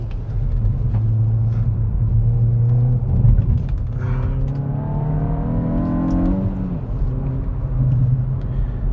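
Hyundai i20N hot hatch engine drones steadily while driving, then revs rise into a climbing harmonic sweep before easing off, loud and close inside the cabin.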